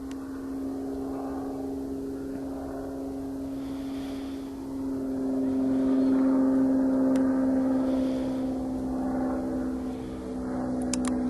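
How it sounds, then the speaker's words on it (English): A steady propeller aircraft engine drone resembling a Cessna, a continuous low hum with a strong tonal note that swells louder midway, heard outdoors at moderate distance with no talk. "That's a perfect sound of a Cessna."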